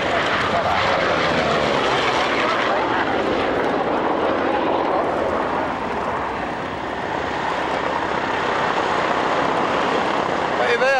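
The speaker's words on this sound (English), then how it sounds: "two Corsairs, the old line coming to the fighting edge together." Two Corsair fighter planes at an airshow at Duxford: a loud, sustained piston-engine roar that holds steady and swells slightly as they pass, with a commentator talking over it.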